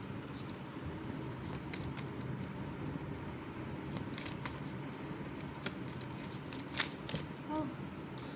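Tarot cards are shuffled by hand in a continuous run of crisp, rapid riffling and sliding, close and fairly quiet, with a few sharper snaps near the end.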